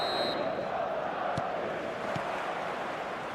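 A stadium crowd in the football video game eFootball 2025 makes a steady, dense roar of ambience on a clear night, continuous and moderately loud throughout.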